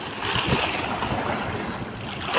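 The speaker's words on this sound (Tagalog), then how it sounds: "Lumalakas na yung hampas ng tubig" Water waves slap and splash against a boat hull in a continuous broadband wash, close and loud, with wind noise hitting the microphone.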